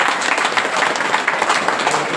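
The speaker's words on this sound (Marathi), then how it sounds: "या सगळ्यांसाठी एक वेळ जोरात टाळ्या झाल्या पाहिजे." Audience applause at the closing ceremony of a Haripath discourse during a week-long Akhand Harinam Saptah devotional gathering, loud dense clapping from a large crowd sustained evenly throughout.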